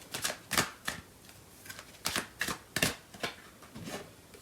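Tarot cards shuffled and drawn for a love reading: a run of crisp, papery riffles and slaps in uneven bursts, fairly close and quiet, with no voice.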